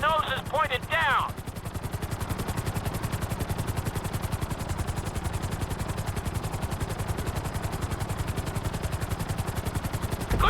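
Helicopter flying in Grand Theft Auto V flight school, a steady rapid rotor chop that runs throughout, loud and constant after a brief opening burst of other game sounds.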